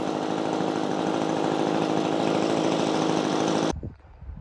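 An Echo PB-2520 leaf blower engine revs at a steady, loud, high pitch for several seconds, then cuts off abruptly, leaving faint handling noise.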